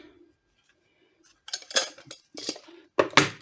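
Metal dessert spoons of cupronickel clink and rattle together in a few quick bursts, close by, after a mostly quiet start.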